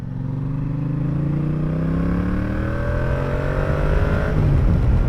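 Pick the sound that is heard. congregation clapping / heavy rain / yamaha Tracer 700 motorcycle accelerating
yamaha Tracer 700 motorcycle accelerating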